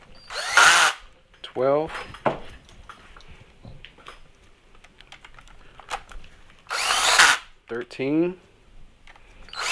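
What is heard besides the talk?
power tool tightening transmission bolts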